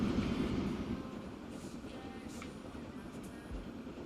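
A train runs through a town in the Transport Fever 2 game, giving a steady low rumble and rolling noise that holds throughout at moderate level, with a brief thump near the end and no talk.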